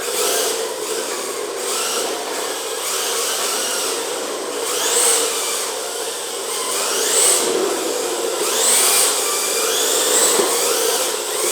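A radio-controlled car fitted with a Hobbywing XD10 Pro ESC drives around, its electric motor giving a continuous high whine that swells and fades with repeated bursts of throttle.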